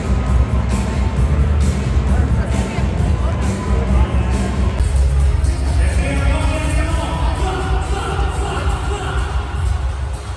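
Roaring arena crowd at an Olympic ice hockey game between the USA and Canada, a loud continuous wall of cheering and hubbub from a packed stand, steady and dense for the whole stretch.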